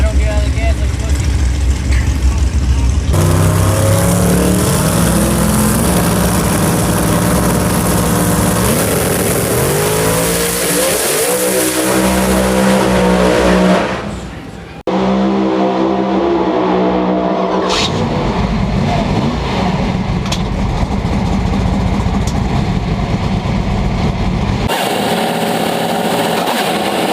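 A ProStreet drag race car at the PDRA East Coast Nationals roars loudly and continuously. Its engine revs rise and fall in pitch, with a brief dip midway, and it dominates the scene.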